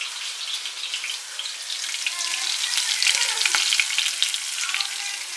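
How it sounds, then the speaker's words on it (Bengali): Cumin seeds and green chilies sizzle steadily in hot sunflower oil in a pan, a dense, continuous crackling fry with a few sharp pops, close and fairly loud with no voices. "সো প্যানে দেখো আমি এখানে সানফ্লাওয়ার অয়েল অ্যাড করেছি, ফোড়নে অ্যাড করছি জিরে, কাঁচা লঙ্কা"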